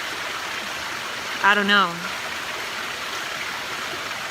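A waterfall roars in a steady, broadband wash of rushing water that fills the whole clip, with a brief spoken voice rising over it near the middle.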